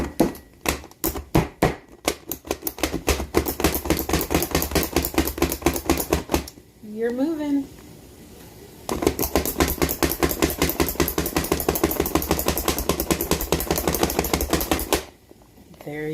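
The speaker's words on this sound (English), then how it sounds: "It's a chopper from Pampered Chef." A Pampered Chef manual food chopper chops in loud, rapid rhythmic bursts, a long run of sharp repeated clacks, a brief pause with a short spoken line, then another long chopping burst close to the mic.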